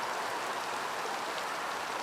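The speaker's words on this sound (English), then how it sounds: "Even in the middle of this heavy rain that's going on." Heavy rain pouring down during an outdoor athletics race, a loud continuous hiss of falling water without a break and with no voices.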